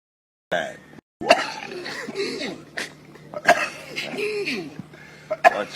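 A man coughs several times in sharp, throaty bursts, close by, interleaved with talking and some laughter in a casual outdoor setting in Jamaica.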